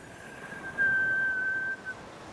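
A single thin, steady whistle of breath drawn through pursed lips, held for about a second, faint and close against a quiet background.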